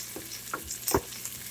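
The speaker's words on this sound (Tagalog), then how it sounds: "mag-iisa tayo. Ito na yung mga bawang sibuyas luya." Garlic, onion and ginger sauté in a pan with soft, intermittent sizzling and a few stirring scrapes, quiet and close, with no talk.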